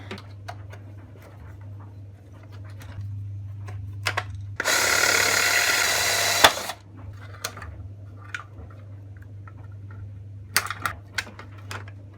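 A power tool whirs in one short burst of about two seconds while loosening the mirror back plate on a VW T4 van, with faint clicks and handling noises around it and a low steady hum underneath.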